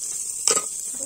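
A brief burst of sizzling as a heated stone is dropped into a dish of food seasoned with ginger and garlic at a food festival in Arunachal Pradesh, rising sharply over a steady background hiss and then settling.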